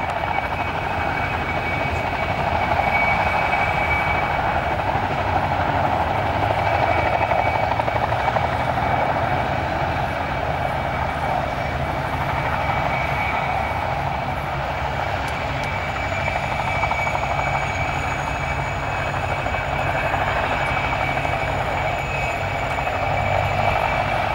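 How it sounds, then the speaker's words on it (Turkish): Helicopters line up for a parade at the Helicopter World Championships in Zielona Góra, and a loud, steady rotor drone fills the whole stretch. "helikoptery ustawiają się do defilady"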